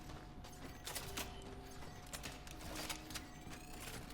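An arbalest crossbow being reloaded in the game Cronos: The New Dawn, heard as quiet mechanical clicks, creaks and ratcheting over a steady background hum, with several sharper clacks spread across a few seconds and no talking.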